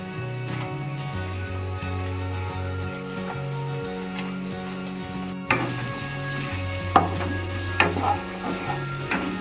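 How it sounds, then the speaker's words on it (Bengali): Mixed vegetables such as capsicum and carrot frying in butter in a pan for chicken soup, a steady close sizzle with occasional stirring scrapes over faint background music. "সবজিগুলো আস্তে আস্তে ভাজা ভাজা হয়ে যাবে।"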